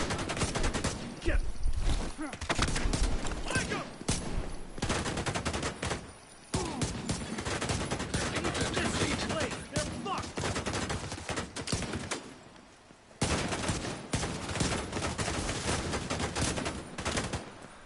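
Rapid bursts of gunfire from the Division 2 video game on PS5, dense volleys with brief pauses, loud and continuous across the whole stretch, with faint talk mixed in.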